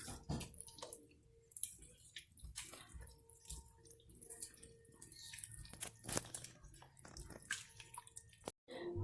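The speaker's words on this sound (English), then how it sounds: "When the broth is cooled down enough, then start crumbling the chile with your hands." Dried chile crumbled by hand in warm broth for tamales, close wet squishing and crackling with small splashes and drips, irregular and intermittent, with occasional faint background sounds.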